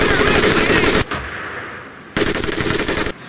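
An M1919A4 .30 caliber machine gun in Medal of Honor fires two loud, sustained bursts of rapid automatic fire, each about a second long, separated by a brief lull with lingering echo.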